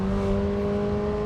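A Lamborghini Temerario engine shifts up through the gears at speed, a loud, sustained, tonal engine drone during the brief gear change.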